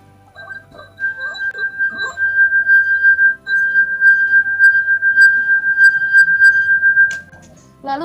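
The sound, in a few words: wine glass rim rubbed by finger, singing tone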